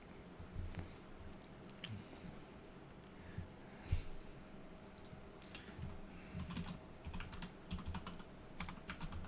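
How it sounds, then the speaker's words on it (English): Fingers typing on a computer keyboard in a quiet room, soft irregular key clicks in scattered runs over a faint background hum. "I was typing there"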